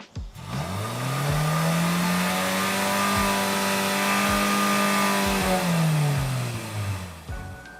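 A Lexus RX SUV engine revs hard at a standstill to about 6,000 RPM and holds a high, steady pitch for several seconds before dropping back to idle, loud and close outdoors.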